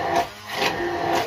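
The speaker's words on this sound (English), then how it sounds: "you can use a food processor or a jug and a hand processor like this one" A hand processor whirs while pureeing cooked pumpkin in a glass jug, a loud close motor drone that dips briefly and then picks back up.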